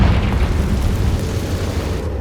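A deep, rumbling blast from the Confringo fire spell in the video game Hogwarts Legacy, loud and sustained with a heavy low roar that trails off slowly.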